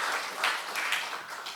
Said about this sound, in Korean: 뜨거운 박수 좀 부탁드리겠습니다.